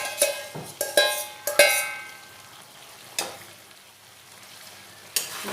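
Fried potatoes are stirred into ridge gourd in a pan, a cluster of quick metallic scrapes and knocks over soft sizzling, then quieter frying with two isolated stirring strokes.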